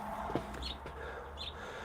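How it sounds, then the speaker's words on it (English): Finches perched in a tree across the way give a few short chirps, faint and distant over a steady outdoor background, with no talk. "They're finches. They're sitting in the tree right across the way. And they're going to sit over there and they chirp"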